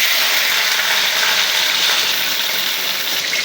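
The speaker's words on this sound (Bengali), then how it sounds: "প্রথমে আমি শস্য তেলের উপর আস্ত কোয়েল পাখি ভেজে নেব" Whole quail fries in corn oil with a loud, dense, unbroken sizzle that holds steady throughout, close by and without any voices.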